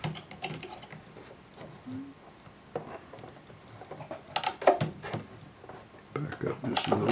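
A home sewing machine stitching a pair of shorts, its motor whirring in short bursts between bumps and clicks as fabric is handled, with a person talking over it up close.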